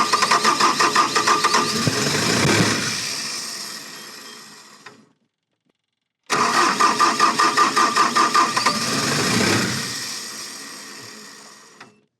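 A Bobcat T870 compact track loader's diesel engine cranks and catches twice, each run ending abruptly as it shuts off, with several seconds of silence between the two loud, close attempts.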